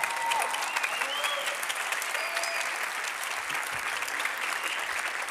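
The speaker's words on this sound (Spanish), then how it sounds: "Vamos, un aplauso, por favor" Audience applause at a MOWO 2013 talk, a sustained crowd clapping from many hands, fairly steady and even in level from start to finish, with no speech over it.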